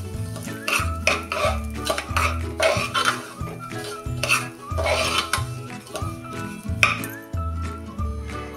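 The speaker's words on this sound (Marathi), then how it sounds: "रवा बघा आता चांगला फुलेपर्यंत आपण भाजून घ्यायचा आहे।" Semolina dry-roasting in a pot over a medium gas flame, stirred with steady scraping strokes and light clinks, partly masked by a continuous music bed.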